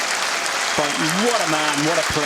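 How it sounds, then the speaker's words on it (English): Sustained applause from a standing indoor bowls crowd for a 71-year-old player from Blantyre, loud and dense, with a voice talking over it. "a standing ovation for the 71-year-old from Blantyre"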